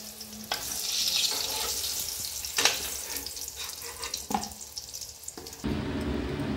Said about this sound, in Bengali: হালকা করে ভেজে নেব। দেখো, বেগুনটা এরকম হালকা ভেজে নিলাম।